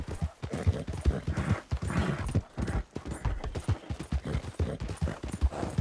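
Horse hooves clop in a rapid galloping rhythm in the Red Dead RedM roleplay game, close and loud with regular paired beats and faint background murmur.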